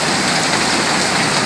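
Steady heavy rain falling, a dense, continuous hiss of drops on surfaces with no breaks, loud and close.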